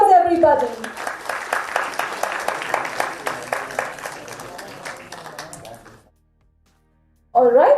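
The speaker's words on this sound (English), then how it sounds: "let's give ourselves a big round of applause, everybody" Audience applause at an MBBS student orientation program, a dense, steady clapping that holds for about five seconds, then cuts off into silence, with a voice speaking just before and after.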